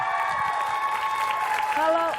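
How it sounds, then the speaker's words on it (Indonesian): Studio audience clapping on an Indonesian TV show, a thin, steady patter heard under a spoken voice and some tonal music or sound, lasting only a couple of seconds. "Tepuk tangan yuk."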